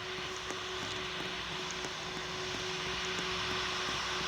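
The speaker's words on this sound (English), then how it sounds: "Okay, there is an Emirates plane." Engines of an Emirates Boeing 787 airliner at Greater Rockford, heard as a steady, fairly distant roar with a constant tone, continuing alone with no talk.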